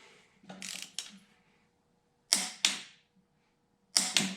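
A torque wrench clicks on the clutch bolts during an LS7 clutch install on an LS3 in a third-gen Camaro, giving sharp, close ratchet-like clicks in separate bursts with quiet gaps between them.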